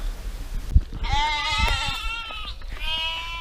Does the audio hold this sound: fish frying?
no